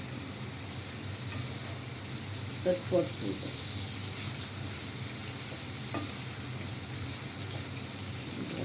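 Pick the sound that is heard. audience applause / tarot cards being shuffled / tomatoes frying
tomatoes frying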